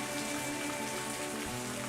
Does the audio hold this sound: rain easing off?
yes